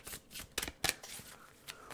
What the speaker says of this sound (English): This is a very hard deck for me to shuffle. It's big, and it's also a very slippery deck